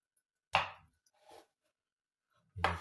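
A knife chops through boiled eggs on a cutting board for crab salad: two sharp, close cuts about two seconds apart with a softer scrape between them, in an otherwise quiet kitchen.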